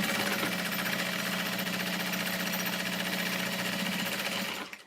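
Sewing machine running steadily while basting a zipper in place for a bag, a close, continuous rapid stitching whir with a fast mechanical pulse that stops abruptly at the end.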